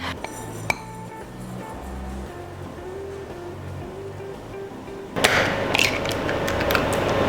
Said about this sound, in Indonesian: Nah, ini kita akan aduk dulu ya